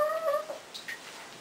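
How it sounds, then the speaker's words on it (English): A small kitten meows a few times in quick, high-pitched bursts during bathtime, the calls close and fairly soft, trailing off into quiet. "She's a teeny tiny kitty."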